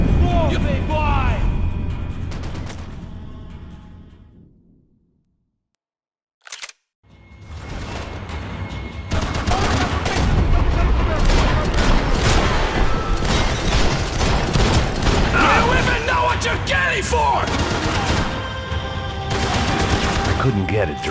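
Gunfire and explosive booms from the video game Max Payne 3, loud bursts of shots in a dense, chaotic firefight with shouted voices and music mixed in, broken by a brief near-silent pause.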